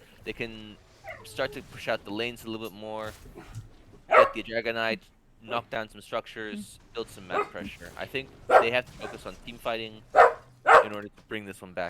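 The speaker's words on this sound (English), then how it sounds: "If you guys can hear that barking, that's my dog" A pet dog barks and whimpers indoors in the background, faint and intermittent beneath steady, continuous commentary on a competitive online game match.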